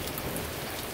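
Heavy rain pours down in Tucson, a dense, even hiss of drops hammering surfaces at close range, loud and unbroken with no voices.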